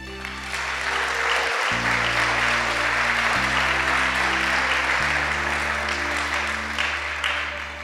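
Church audience applauding loudly and steadily, a dense wash of clapping with sustained organ or keyboard chords underneath throughout.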